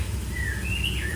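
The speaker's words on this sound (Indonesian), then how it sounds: "Murai hutan." A white-rumped shama, or murai hutan, sings a brief clear whistled phrase that slides up and down in pitch over a low background hum, heard nearby.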